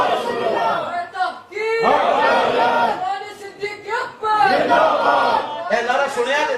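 A large crowd at a religious conference honoring Hazrat Abu Bakar Siddique chants slogans in loud, rhythmic bursts, surging and pausing in waves with a strong communal roar.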